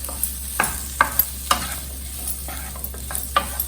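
Boiled potatoes stirred into samosa filling in a pan, a spoon scraping and tapping in a steady series of sharp strokes over a low continuous sizzle, with no voices.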